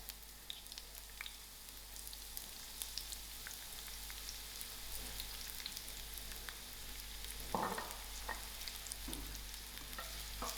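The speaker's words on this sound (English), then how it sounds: "To my oil, I'm going to add in my onions." Onions frying in oil in a pan for chakalaka give a steady close sizzle and crackle through the whole stretch, with a few louder stirring scrapes near the end and no talking.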